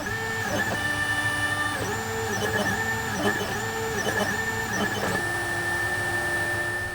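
A Snapmaker 3D printer's motors whir and hum in steady, stepping tones, with pitch shifting as the axes move back and forth, loud and close.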